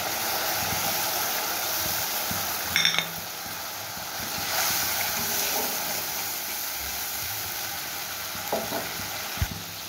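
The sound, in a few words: sautéing mustard paste in a pan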